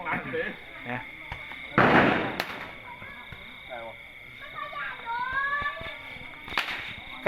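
Firecrackers and gas-cannon bangs at a Thai beeswax-flower procession, with a loud burst of crackling pops and a few sharp single bangs standing out amid crowd chatter and festive background noise.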